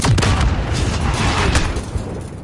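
Gunfire in an online shooter video game, loud rapid booming shots and blasts packed densely across the moment, close and heavy with little pause.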